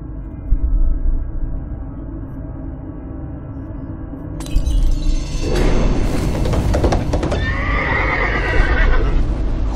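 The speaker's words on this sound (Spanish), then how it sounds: "la puta niña matando un caballo" A horse neighs loudly in the Layers of Fear horror game, a long whinny rising out of a low droning background after a sharp onset, followed by thumping and strained, noisy cries.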